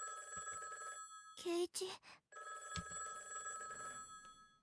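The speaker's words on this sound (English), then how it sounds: "we suddenly heard a high-pitched ringing sound. It was coming from the phone right beside me." In the Higurashi visual novel, a telephone rings close by with a high electronic bell tone in two long bursts, broken by a short voiced line and a brief gap between the rings.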